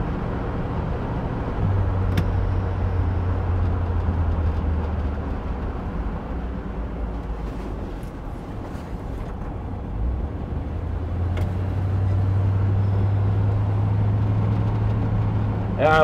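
A 1955 Chevrolet Bel Air, self-painted by a long-time owner, cruises down the road with a steady low engine drone and road rumble that swells as it turns, heard from inside under occasional talk.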